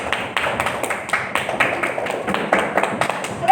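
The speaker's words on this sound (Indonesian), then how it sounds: "kita beri tepuk tangan untuk kelompok 1" A small classroom group claps for a student presentation group, with distinct separate claps in loose bursts, close and fairly loud, over a few seconds.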